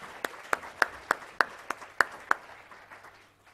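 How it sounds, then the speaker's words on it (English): Audience at a national epilepsy conference clapping in a sparse, scattered way: about ten distinct sharp claps spaced fairly evenly, fading out toward the end, with no talking. "Give them all a round of applause."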